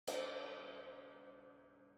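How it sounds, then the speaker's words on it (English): A single crash hit on a dry ride cymbal gives a bright metallic wash that rings out and slowly fades. "I did some crashes on this ride because it actually sounds really cool."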